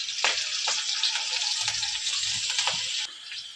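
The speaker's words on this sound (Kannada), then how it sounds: "ನೋಡಿ, ಇವಾಗ ಈರುಳ್ಳಿ ಫ್ರೈ ಆಗಿದೆ." Chopped onion sizzles steadily in hot oil with chillies, a dense close crackling hiss broken by a few sharp spatters and pops, with no voices.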